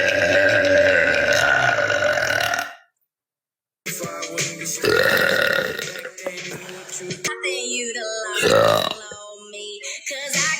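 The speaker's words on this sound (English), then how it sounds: "I've been trying to like teach myself to burp on command just for shits and gigs." Loud, drawn-out belches come one after another, a long croaking burp, a pause, then further belches of varying length, close to the listener, with someone talking between them.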